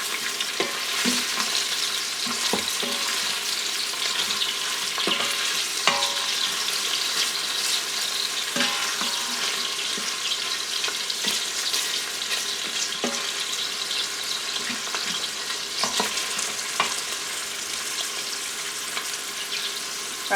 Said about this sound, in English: I like this wooden spoon because of the fact that I can scrape the things off the bottom of the Instant Pot